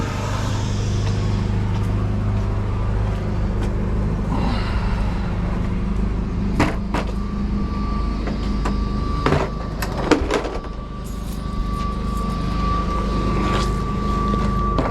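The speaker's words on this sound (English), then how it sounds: "we're going to turn on the air and let this thing air up" A truck chassis with new brakes, locked on, idles as its air brake system builds pressure: a steady low engine rumble with a constant hum, and a few sharp bursts of air and clanks partway through.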